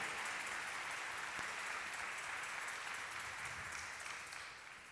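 A church congregation applauds loudly and continuously as a dense, steady wash of clapping that fades slightly at the end.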